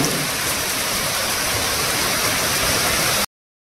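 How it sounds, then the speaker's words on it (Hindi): Dense, steady downpour of heavy rain, a constant loud hiss with no pauses, cutting off abruptly at the end. "बारिश देखिए कंटिन्यू आ रही"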